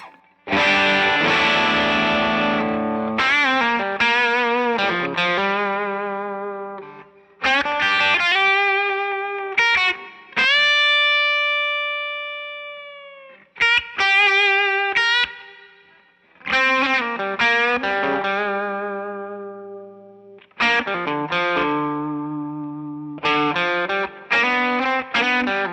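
Boosted electric guitar with P90 pickups playing distorted chords and single-note phrases in short bursts, with one long sustained note in the middle, loud and close with no talking.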